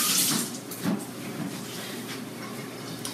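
A kitchen tap runs steadily as something is rinsed under it, a continuous close splashing hiss with a few brief louder surges and no talk.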